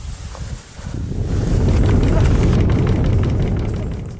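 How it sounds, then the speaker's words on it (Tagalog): Deep, continuous earthquake rumble that swells to a loud, sustained roar and then eases slightly, with wind-like buffeting and no voices. "Parang lumindol ah. Lindol yun di ba?"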